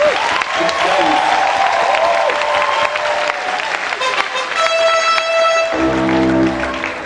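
Steady applause from a large audience at a university convocation ceremony fills the room, with a murmur of voices beneath and a sustained musical tone rising near the end.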